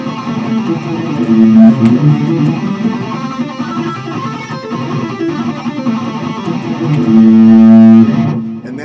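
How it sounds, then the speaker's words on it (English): Electric guitar with effects and distortion runs through a pentatonic scale pattern for a lead lesson, a continuous loud string of notes with sustained bends near the start and end, no talking. "Here's the sequence of notes or pattern for the pentatonic scale I'm going to teach you."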